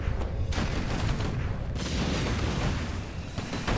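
Mortar teams fire in a Warcraft 3 match, dense overlapping booms and thuds layered through busy battle noise, loud and continuous across the moment.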